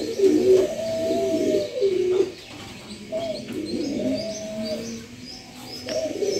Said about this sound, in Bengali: এই যে কবুতরগুলো গোসল করতেছে, হালকা হালকা পানি খেতেছে।